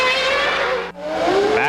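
A 1995 Formula 1 car exits the pits at the Spanish Grand Prix, its engine screaming loud and close with a steady high whine, a brief gear-change dip midway, then rising pitch as it pulls away.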